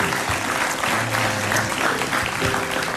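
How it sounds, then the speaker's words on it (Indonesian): Studio audience applause on an Indonesian TV talk show, a loud, full burst of many hands clapping that holds steady, with a faint voice or tone lingering underneath at times. "Kayaknya kita tepukin tangan dulu deh ya."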